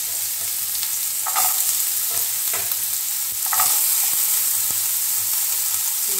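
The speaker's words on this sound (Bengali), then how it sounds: "আমার ফ্রাই প্যানে সাদা তেল গরম করতে বসিয়ে দিয়েছি, এখানে সবজিগুলো ভেজে নেব" Vegetables fry in hot white oil in a frying pan with chopped ginger and carrot, giving a loud continuous hiss and crackle up close, broken by a few scraping stirs and clicks.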